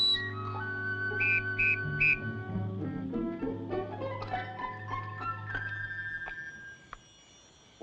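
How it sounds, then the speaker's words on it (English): A shrill whistle made from an eagle's wing bone sounds a few short high blasts, then trailing wavering tones and faint clatter, the sound fading toward the end. "Whistle made from wing bone of eagle."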